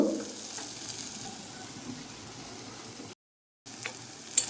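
Eggplant for nim begun fries in oil with a soft, continuous sizzle close by, steady and quiet, broken by a short silent gap and a small clink at the end.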